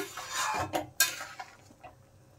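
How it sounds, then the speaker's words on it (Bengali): A paneer and parwal (pointed gourd) curry being stirred in a pan, with a few sharp metal utensil clanks and scrapes against the pan over a soft background hiss. "এখন আরেকবার নেড়ে চেড়ে দেব"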